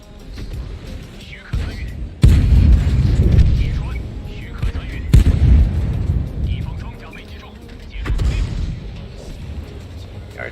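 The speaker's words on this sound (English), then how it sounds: "Artillery just nailed him." Heavy artillery shells land in a World of Tanks battle, with deep booming impacts arriving in three loud rumbling bursts that roll out and fade between hits, over steady engine and battle noise.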